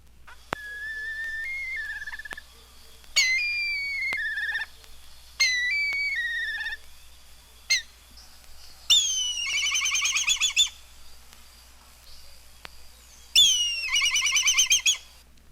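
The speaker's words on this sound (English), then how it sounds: "The tropical African kite has a shrill mewing whistle and a sharper alarm call." Tropical African kite calling alone: several shrill, descending mewing whistles at first, then sharper, rapid trilling alarm bursts, clear and fairly close against a quiet background.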